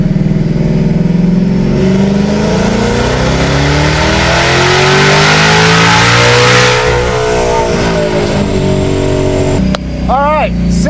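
A twin-turbo Ford Mustang S650 on a dyno makes a loud sixth-gear pull, its engine note climbing steadily for several seconds before the throttle lifts and the revs fall away. A brief squeal and clatter follow near the end.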